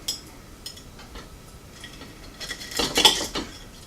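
A knife cuts into a peeled 4-minute boiled egg, giving a cluster of bright scraping clicks near the end, with a few lighter taps and knocks before it, close and fairly quiet.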